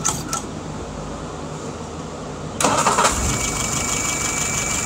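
A WO 636SA engine cranks and catches, a brief starter whine giving way to a loud, steady idle close by, with no voices.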